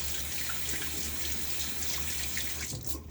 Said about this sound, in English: I'm going to go and rinse this off instead of using it.